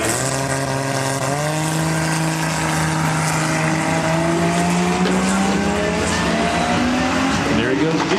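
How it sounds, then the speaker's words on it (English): A tuned 1974 Datsun 240Z on a drag strip, engine droning loud and close as it pulls away slowly, pitch climbing gradually while a voice talks over it. "Slow starts and strong finishes in the 74 Datsun 240 Z car, tuned by Hales Technical Service."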